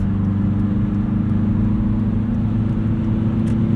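Inside a 2016 Hyundai Veloster Rally Edition with a six-speed manual, pulling in 6th gear on the highway to pass, the engine gives a steady, loud, low drone with road rumble and no change in pitch.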